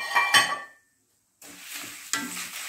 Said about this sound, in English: Now let us fry all these ingredients together on low heat till they all smell good.